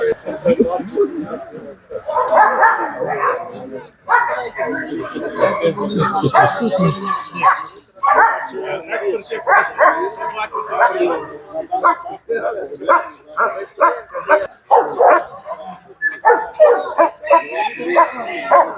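Several laika dogs bark, yip and whimper in bursts among overlapping human voices at a dog show in Rohatyn, in a busy, crowded setting.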